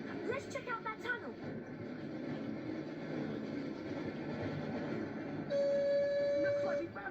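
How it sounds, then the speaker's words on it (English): Hogwarts Express train in the PS1 game Harry Potter and the Chamber of Secrets: a steady mechanical rumble runs throughout, joined near the end by a sustained horn-like tone, with a voice speaking over it. "Looks like we found the train, Ron."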